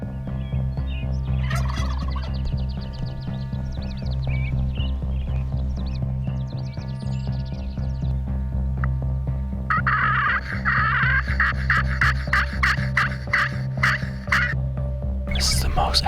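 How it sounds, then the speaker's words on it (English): Several wild turkey toms gobble back and forth outdoors during a morning hunt in Wyoming, bursts overlapping from different distances, with a steady low hum of background noise throughout. "toms coming in from behind us, and they're just chattering back and forth like crazy"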